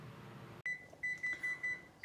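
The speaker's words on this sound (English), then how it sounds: "Just turn off the beep, beep, beep, beep." Oven timer beeping in a home kitchen: a series of five short, evenly spaced electronic beeps after a brief cut, clear against a quiet room.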